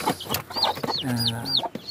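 Rhode Island chickens cluck nearby in short, repeated calls, with a few rising chirps mixed in over a steady rustling background and no talking.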